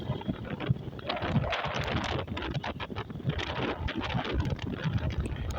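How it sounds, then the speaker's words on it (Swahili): Wind buffeting the microphone during a motorcycle ride from Nairobi to Makueni in Kenya, a loud, continuous broadband rumble and roar with constant fluttering gusts and no speech. "sikia upepo venye inachapa."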